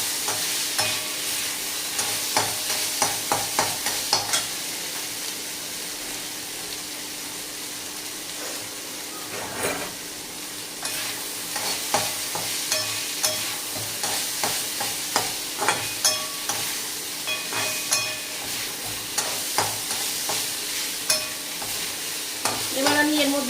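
Chicken mince fries in hot oil in a pan with a steady, continuous sizzle, while a spoon stirs and scrapes it in frequent, irregular strokes close by, with no talking.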